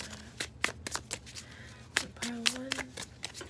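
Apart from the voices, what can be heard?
shuffling a deck of tarot cards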